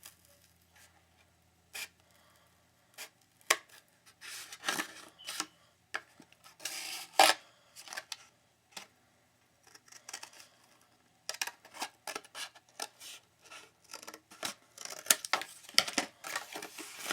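Scissors cutting through a paper skirt block pattern after the darts are trued, heard as irregular crisp snips and crinkling paper rustles, close and quiet, with no talking.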